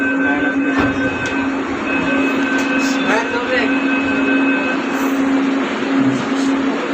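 A Pune Maha Metro train hums and rumbles steadily up close, with a sustained electric whine and faint rattles as it pulls away.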